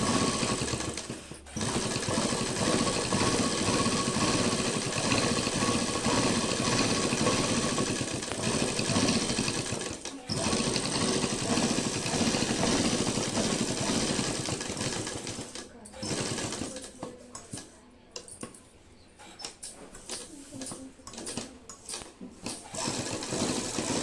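An electric sewing machine stitching a shirt collar, a fast steady mechanical whirr running in long bursts with brief stops, then shorter stop-start runs, with someone talking over it.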